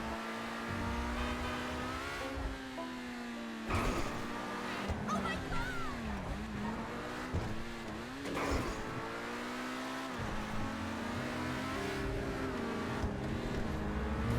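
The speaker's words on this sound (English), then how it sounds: "I'm still driving relatively fast, right? But I'm I'm braking carefully to make sure that I don't crash into any other cars." A fast car in GTA Online, its engine note rising and falling with repeated braking and revving, tires squealing at times, loud and continuous throughout with game music layered underneath.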